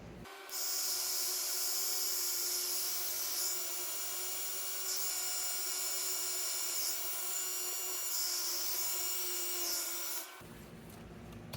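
A heat gun running on its high heat setting, aimed at PVC for a shrinking test, gives a loud steady whine and airflow hiss that holds for about ten seconds and then cuts off.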